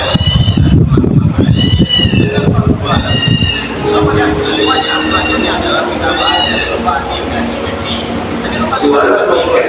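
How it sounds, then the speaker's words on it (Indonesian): A cat meows several times in quick succession, loud and close, each call rising and falling, with some other noise at the start. "Suara kucing."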